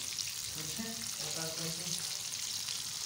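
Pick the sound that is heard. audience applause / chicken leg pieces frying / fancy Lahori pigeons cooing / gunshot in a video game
chicken leg pieces frying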